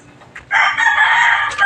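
A rooster crows once, loud and close, a sustained bright call after a few faint clucks, with no talking over it.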